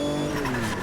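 A race car's gearbox grinds after being jammed into second gear without matching revs in the Automobilista 2 racing game. A loud, harsh, continuous scraping whine rides over the engine note, heard alone for under a second.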